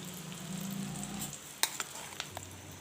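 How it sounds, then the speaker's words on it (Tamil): Ground brinjal thokku with raw onion frying lightly in oil in a pan, a soft continuous sizzle punctuated by a few sharp clinks of a spoon stirring against the pan. "அதில் இந்த எண்ணெயில் லைட்டாக இப்போ பரட்டி விடுங்க"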